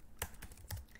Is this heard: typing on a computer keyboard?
yes